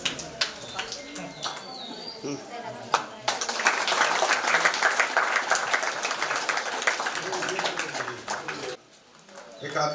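An audience claps at a student felicitation ceremony for Ahilyadevi Holkar's birth anniversary. Scattered claps build into several seconds of dense, loud applause, with birds chirping and people talking around it.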